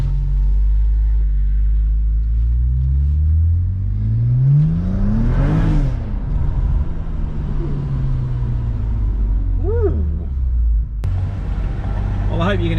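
A BMW 335i with the N54 engine and a hybrid 17T turbo under a custom tune, engine revving and accelerating with a rising and falling drone and turbo whir, loud and close from inside the car.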